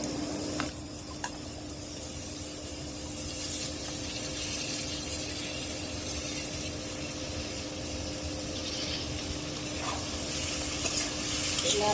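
Potatoes and carrots sizzling in a pan with fried onion and green chilli, stirred with occasional scraping as a steady hiss runs throughout, close and continuous with no talk.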